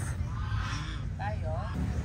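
Ducks and geese honking a few times at a theme park farm in Mendez, Cavite, with rising and falling calls near the end, over steady low background rumble and some distant voices.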